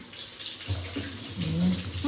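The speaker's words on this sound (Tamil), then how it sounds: "அந்த தண்ணி வேணாம், அந்த தண்ணி பிடி" Water runs from a tap into a container in a home kitchen, a short, steady splashing stream that gets slightly louder as it fills.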